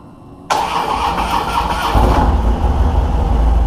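A Harley-Davidson motorcycle engine cranks and catches about half a second in, then settles into a loud, steady, lumpy idle that deepens and grows heavier partway through, with no talking.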